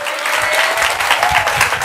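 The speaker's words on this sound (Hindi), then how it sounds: "तालियां बनती है ना अभी?" Brief burst of audience applause during a Marathi exam career guidance session for SSC students, a dense, even clapping that fills the short moment loudly and close.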